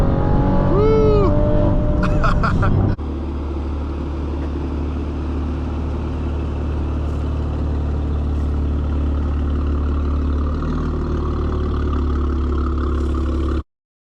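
Stage 2 tuned 2018 Audi RS5 Coupe engine under way, a loud steady drone and low rumble after a brief opening burst of revving, continuous and close.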